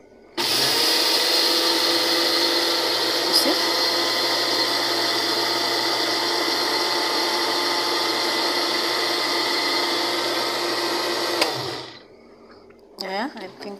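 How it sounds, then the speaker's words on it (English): An electric blender crushing sesame seeds runs loud and steady with a high whirring motor whine for about eleven seconds, then cuts off abruptly, followed by brief handling clatter. "Then again, we are going to crush the simsim."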